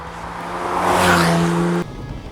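A 2014 Porsche 911 Targa sports car drives past with a loud broadband engine and tyre roar that swells, peaks and cuts off abruptly, with no voices.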